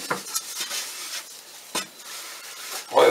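Banana being stirred into a fruit tart filling for a shortcrust pastry tart, giving a few soft scraping and clinking strokes against the bowl, with a louder clatter at the end.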